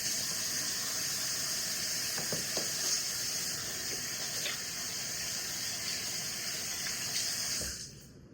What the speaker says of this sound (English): So we're going to wash your hands.